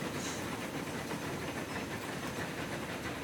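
A train running on rails in the Transport Fever 2 game, heard as a steady, continuous rumble with hissing and faint clickety-clack, unbroken and without talk.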